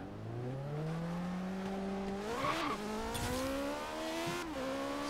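Lamborghini engine in Forza Horizon 3 revving up through the gears, a rising whine with quick shifts and brief tire squeal, loud and close with no talk.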